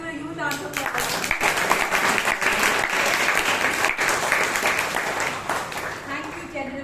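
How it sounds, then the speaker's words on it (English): An audience at a Toastmasters club meeting in Bangalore gives a big round of applause, dense and loud clapping that swells and holds steadily for several seconds before tapering off. "Let's do a huge round of applause."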